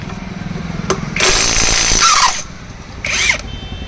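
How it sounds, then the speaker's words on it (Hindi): A cordless 1/2-inch heavy-duty electric impact wrench loosening rusted wheel nuts, its loud rattling hammer bursts running about a second, then a shorter second burst, with a squealing whine between and a low mechanical rumble beforehand. "तो चलिए अब हम नट खोलना स्टार्ट करते हैं। आप देख सकते हैं कि कुछ ही सेकंड्स में हमारे नट खुल गए हैं।"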